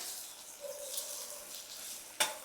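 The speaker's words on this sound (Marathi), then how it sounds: "मसाले आपण परतवून घेऊया" Spices sizzle softly in hot oil in a pan, a steady low frying hiss with a brief stirring scrape near the end.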